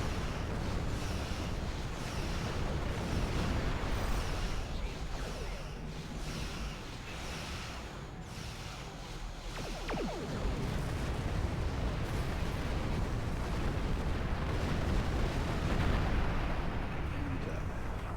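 Sustained starship broadside weapons fire in Star Trek Online, a dense, loud rumble of continuous blasts and explosions rolling on without pause.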